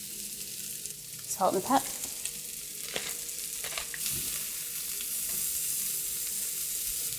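Broccoli sizzles and is stirred in a hot pan while leftovers are cooked for dinner: a steady, close frying hiss with scraping and clinks of the utensil, and a brief spoken phrase early on.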